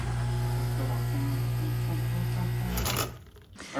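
An espresso machine pulls a shot, its pump humming steadily and loudly, then cutting off near the end with a few small clicks and rattles.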